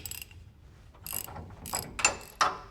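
Factory bolts being run in with a ratchet to fit a longer shackle onto a leaf spring of a 1966 Ford Bronco: several short, close, quick ratcheting clicks in bursts, with no talk.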